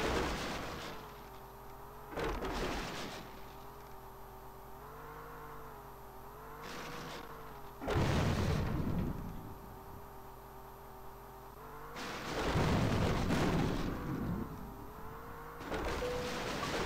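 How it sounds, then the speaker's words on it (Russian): Booming explosions in the jeep racing video game RailRoad Madness burst out a few times over a steady droning vehicle engine, loud against the constant motor hum. "Вот это взрывы."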